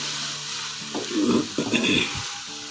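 Chicken being stirred with garlic rice and chopped green chillies in a hot pan, a few scraping, sizzling strokes over a steady frying hiss, close and moderately loud.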